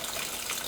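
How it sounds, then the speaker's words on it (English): Water runs steadily into a Haier HPL21N portable washing machine, a continuous close gushing fill with no talking. "You can see and hear the water running."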